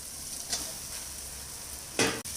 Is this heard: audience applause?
no